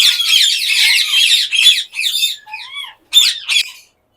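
Loud, harsh red sun lory squawks, a dense raucous burst followed by several shorter screeches and whistled calls, close by in an aviary with no talking.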